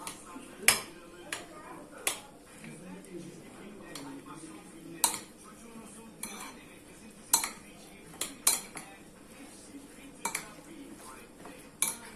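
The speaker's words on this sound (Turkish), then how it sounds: "Şimdi güzelce karıştırıyorum." A spoon scrapes and clinks against a bowl as grated celery salad is folded through yogurt, giving irregular sharp taps over a low shuffle, close and quiet, with a voice talking at times.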